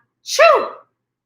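A single voice imitates a sneeze during a voice lesson, one short loud "achoo" with a sharp breathy onset and a falling tone, alone against silence.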